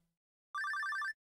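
A single short burst of a warbling, trilling phone ring from Stardew Valley plays clearly against silence.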